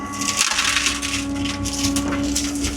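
A tree cracking and crashing down as an excavator bucket pulls it over, a loud continuous crunching and splintering of wood over a steady engine drone, with no talk.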